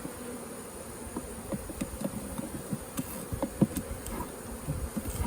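Honey bees swarm and buzz around an opened backyard hive during a summer inspection, a steady dense drone with individual bees zipping close past now and then, no voices.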